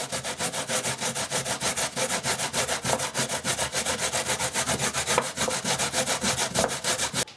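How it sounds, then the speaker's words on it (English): A coconut is grated by hand for milk for a Caribbean cornmeal pudding, giving fast, regular rasping strokes that scrape close and loud without pause. "they have to grate a coconut to get the milk from the coconut"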